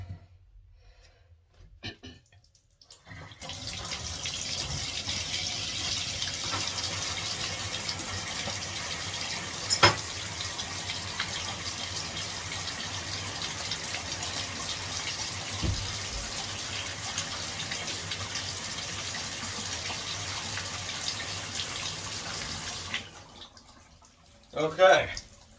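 Water rushes steadily from a three-handle shower after its valve stems are replaced, a loud continuous hiss that starts abruptly and runs for about twenty seconds before cutting off.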